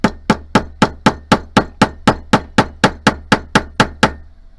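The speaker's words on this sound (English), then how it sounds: "I'm going to use my brass dead blow hammer, and I'm just going to pound this until my disc cutter goes all the way through my metal." A brass dead blow hammer pounds a disc cutter through metal at a jewelry bench, about fifteen loud, close, evenly spaced metallic strikes in a steady rhythm, then stopping.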